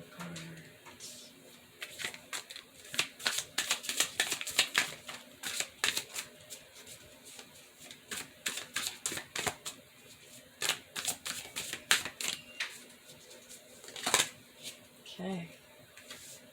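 Mystic Forest Oracle cards are shuffled in a quiet room, giving a run of soft, irregular riffling and slapping sounds that come in bursts over about sixteen seconds, close and faint.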